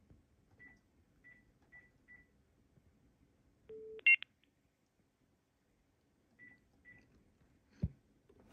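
Short electronic dialing beeps sound in quick succession on a monitored telephone line, followed by a steady tone, a louder warble and more beeps over a quiet line, ending in a click.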